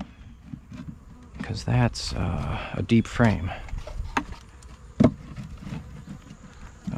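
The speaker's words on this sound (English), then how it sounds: "Okay, robber bees are coming." Robber bees buzz around a horizontal hive during inspection, a busy insect drone running beneath a man's intermittent speech and a few sharp knocks of frames and boxes.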